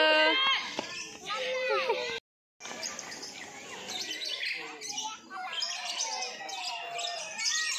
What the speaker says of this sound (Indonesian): Wah, banyak burung.